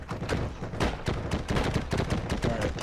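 Gunfire and grenade blasts in a multiplayer shooter video game, with rapid sharp shots crackling in quick irregular bursts, overlapping and loud, continuous for the whole stretch.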